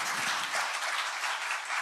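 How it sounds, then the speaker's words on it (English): An audience at a PR and corporate communications summit applauds award winners, giving a steady, dense round of clapping that fills the room and stays even throughout, with no voices over it. "So I want every one of you who is in this room to clap for their achievement"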